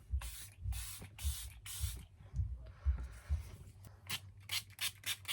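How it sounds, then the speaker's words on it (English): Setting spray misted onto the face in a series of quick pump bursts, each a short airy hiss, several in a row, a pause of softer rubbing, then a rapid run of closer bursts. "I use a lot of setting spray, so my face does look very wet right now."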